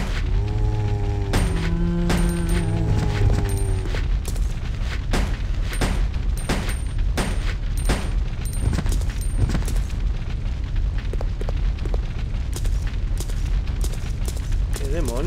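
Repeated sharp gunfire bursts from the video game Resident Evil Code: Veronica, loud and dense, mixed with booms and clatter, with a voice talking briefly near the start.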